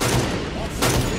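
A turret fires in a multiplayer video game as a loud, dense barrage of rapid blasts that swells twice over a short burst.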